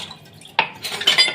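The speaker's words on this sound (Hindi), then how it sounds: "मैं इन बर्तनों को धोऊँगी।" Dishes and utensils gathered from a home fridge clatter as they are handled for washing, a few sharp close metallic and ceramic clinks in quick succession.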